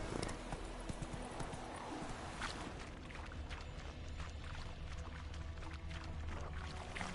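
Horse hooves clip-clopping in a steady gallop within The Witcher video game, a continuous rhythmic patter under game ambience and background sound, with no clear talk.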